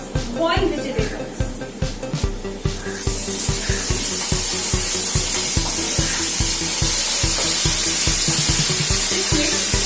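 Boiled vegetables frying in a pan for an Indian mixed vegetable dish, giving a steady hiss and sizzle that swells louder after the first seconds, with a regular low rhythmic thumping and music playing underneath.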